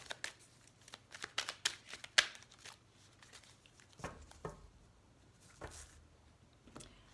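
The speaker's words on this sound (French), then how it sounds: "on va couper le jeu" A deck of tarot cards is cut and shuffled by hand close by, giving soft papery riffles and slaps in uneven bursts with short pauses between them.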